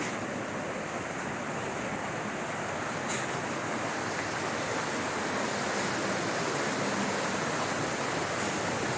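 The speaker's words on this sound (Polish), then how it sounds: "Potok szumi, a my idziemy dalej w szczelinie skalnej." A mountain stream rushes steadily through a rocky gorge in the Malá Fatra mountains of Slovakia, a continuous broadband roar of water that stays even and close throughout, with no voices.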